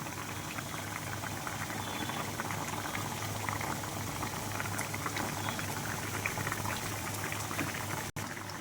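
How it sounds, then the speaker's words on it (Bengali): Egg curry gravy with potatoes boils in a pot, a continuous close bubbling and churning that stays even throughout, briefly cutting out just before the end. "তো এই যে দেখো, ঝোলটা এখন ফুটে উঠেছে"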